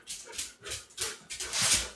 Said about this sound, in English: I hear a doggy breathing.